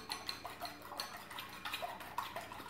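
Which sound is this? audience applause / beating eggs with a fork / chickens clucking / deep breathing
beating eggs with a fork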